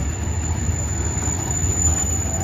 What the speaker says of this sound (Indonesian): inilah track layang mesin yang dipakai untuk pemasangan bantalan-bantalan rel